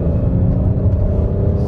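A 2020 Kia Cadenza accelerating hard uphill, its engine a steady, loud low rumble throughout with no break and no voices.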